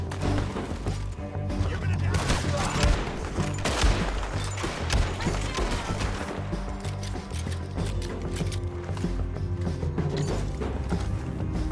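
Enemy gunfire in the open-world Western game Red Dead Redemption II, a dense, continuous barrage of overlapping shots and impacts from many directions over game music, with someone talking over it.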